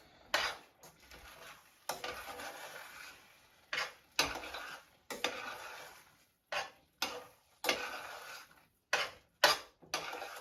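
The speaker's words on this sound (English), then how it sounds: "Stir again." A spoon stirs Jamaican rice and peas in a metal pot, giving a quiet, close scraping and clinking in repeated short strokes with brief pauses between them, with no talking.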